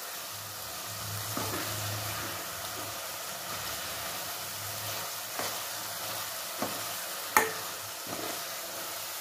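Garlic masala frying in oil in an Indian home kitchen, a steady low sizzle throughout with a few soft clinks of stirring, the loudest knock near the end.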